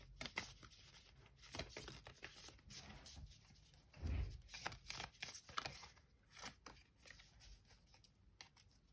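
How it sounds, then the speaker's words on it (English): Heart-shaped playing cards being shuffled, stiff and awkward to riffle, giving a run of soft papery flicks, riffles and taps at close range, with one louder fumbling burst partway through. "We'll just get some advice from this deck, from this very hard to shuffle deck."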